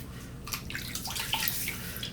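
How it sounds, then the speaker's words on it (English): Water splashes and drips from a sink as a head is wetted before a safety razor shave, a short burst of irregular splashing and trickling up close, with no talking. "Now, I'm gonna wet my head just a little."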